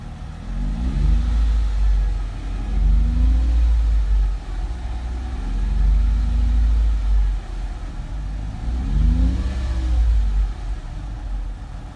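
The engine of a 2004 Mercedes SLK 320, a flood-damaged car, runs loud and close while warming up, its deep hum swelling in slow repeated revs.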